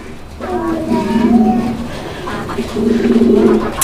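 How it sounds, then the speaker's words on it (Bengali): A pair of Lahori pigeons cooing close by in a loft, soft repeated throaty coos rising and falling, with a voice faintly in the background. "এখানে চমৎকার আরও এক জোড়া লাহরি কবুতর রয়েছে"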